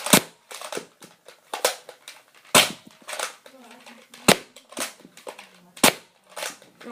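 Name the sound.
Nerf Elite Strongarm blaster firing darts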